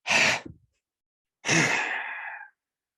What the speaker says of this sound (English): You're going to breathe in, and then a separate longer inhalation, and hold it, and then do a double breath out.